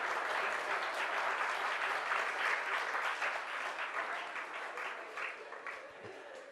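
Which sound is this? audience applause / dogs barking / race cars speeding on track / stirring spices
audience applause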